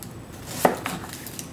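A knife chops through an onion on a cutting board, one crisp, close chop standing out from quieter background noise.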